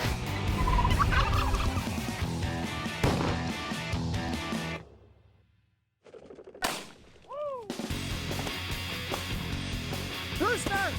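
A rooster pheasant flushes and cackles harshly amid rustling and outdoor commotion during a hunt, a sudden shotgun blast breaks through, then a short silence before noisy activity resumes.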